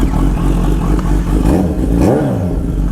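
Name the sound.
Kawasaki Z H2 motorcycle engine revving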